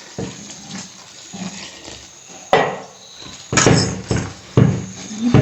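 Mushrooms being washed by hand in a bowl of water with salt and turmeric in a home kitchen, with splashing and sloshing water and a few louder clattering bursts of the bowl near the end, close and fairly loud, with no talking.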